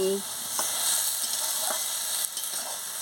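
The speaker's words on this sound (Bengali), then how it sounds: "দিয়ে ভালো করে কষিয়ে নিচ্ছি পরিমাণ মতো মিষ্টিটাও দিয়ে দিচ্ছি দিয়ে ভালো করে একটু নাড়িয়ে নিচ্ছি" Soybean curry frying and being stirred in a pan, a steady broadband sizzle with a few soft scraping stirs, close and alone without any talk.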